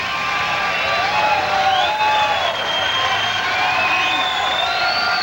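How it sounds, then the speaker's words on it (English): Crowd at a 1994 AVP beach volleyball quarterfinal in Milwaukee cheering and whistling continuously, loud and sustained with shrill whistles rising above the roar, under a commentator's talk. "Crowd comes alive."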